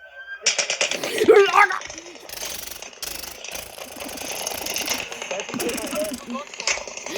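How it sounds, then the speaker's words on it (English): Rapid bursts of automatic gunfire during the Las Vegas shooting, a chaotic series of sharp cracks and rattles, moderately distant, with shouting voices mixed in. "Hey, they're shooting right at us, guys."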